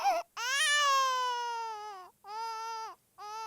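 A baby cry sound effect: a short sob followed by a long, wailing cry and two shorter wails, loud and close with brief breaths between, no other sounds.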